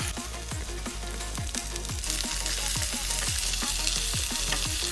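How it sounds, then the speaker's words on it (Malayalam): Sliced onions hit hot oil in a pan for a clam roast and sizzle loudly and continuously, with rhythmic scraping strokes of a spatula stirring them throughout. "ഇനി നമുക്കിതിലേക്ക് സവാള ചേർത്ത് കൊടുക്കാം."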